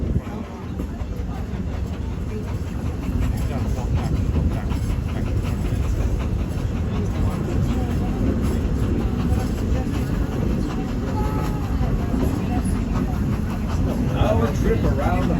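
The Walt Disney World Railroad train rolling around the Magic Kingdom, a steady low rumble with faint clickety-clack of the cars, heard from on board under continuous talk.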